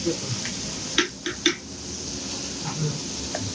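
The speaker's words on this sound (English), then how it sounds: "We're going to put the rest of the spinach there. And we're going to stir this in here." A spoon clinks and scrapes against a pot while spinach is stirred into Italian wedding soup, a few sharp metallic taps over a soft bubbling simmer, close by, with faint talk in the background.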